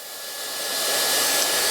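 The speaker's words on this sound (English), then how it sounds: "So I'm just heating the hair up, I'm not moving it around a lot." A hairdryer blows hot air onto a sweeping fringe, a loud continuous whooshing hiss that swells slightly as it comes closer, with no voices over it.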